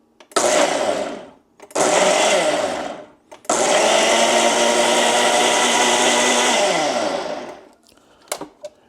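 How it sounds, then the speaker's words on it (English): A blender whirs through crab egg bite batter in three bursts, two short and one long, loud and close, with brief silences between and a few clicks at the end. "the rest is just throwing it in the blender, mixer, ninja"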